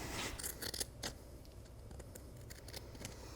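Scissors making relief cuts in cloth laid over a wood surfboard with a squared tail, heard as a quick cluster of crisp snips near the start and then sparse faint clicks over a low background hiss.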